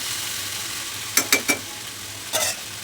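Okra fries in a pan with a steady, even sizzle, broken by three quick stirring scrapes and one more a moment later, close and without any speech.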